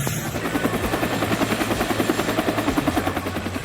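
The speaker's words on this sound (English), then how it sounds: "just waiting for the engine to warm up on the old T-Rox chopper" The engine and rotor of an old T-Rex model helicopter run while it warms up, giving a steady, loud, close whirring drone with a fast regular pulsing beat and no talk.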